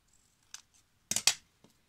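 Scissors cutting a photo for a metal journal cover make a few quick snips, one faint early cut and then two sharp close snips in quick succession, alone in a quiet room.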